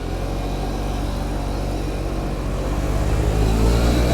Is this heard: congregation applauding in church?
no